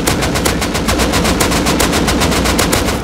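Sustained rapid automatic gunfire from the online survival game Rust, loud and continuous with evenly spaced shots for the full stretch and no talk over it.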